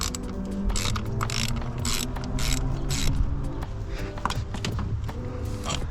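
Ratchet wrench clicking steadily while unscrewing intake hardware on a Nissan 350z, a close, continuous rapid pawl chatter with short pauses and metallic knocks between strokes.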